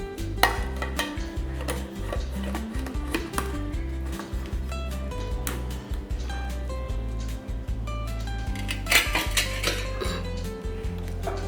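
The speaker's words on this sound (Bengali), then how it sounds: "দিয়ে এবার বাটিটা ঢাকা দিয়ে দেবো।" A bowl of hilsa wrapped in bottle-gourd leaves is covered in the kitchen, with repeated sharp clinks and knocks of metal dishes and lids, irregular and fairly close.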